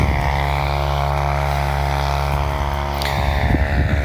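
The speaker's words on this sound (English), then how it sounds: "It's a 1959 440 ICD supercharged two-stroke." A 1959 John Deere 440 ICD supercharged two-stroke dozer engine runs with a loud, steady droning rumble close by, and a few knocks and clatters come near the end.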